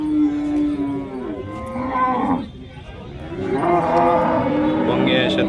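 Cows of the Gir breed mooing at a crowded cattle market in Chalisgaon, with several long, loud calls rising over a constant bustle of people and animals and background voices.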